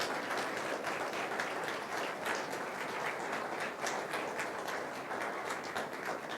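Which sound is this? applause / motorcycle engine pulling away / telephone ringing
applause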